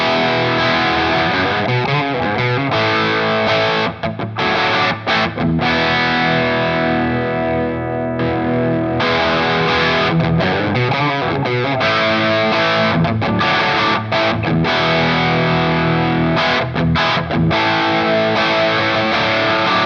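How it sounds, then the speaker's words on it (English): Electric guitar through overdrive on the bridge humbucker, with a compressor pedal ahead of the drive, plays a thick, sustained, distorted riff of chords and notes, loud and continuous for about twenty seconds. "Let's listen to just the overdrive."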